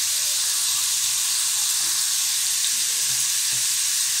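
Garlic paste and cumin frying in hot oil in a pan, a steady close sizzle and hiss that runs unbroken throughout with faint stirring knocks.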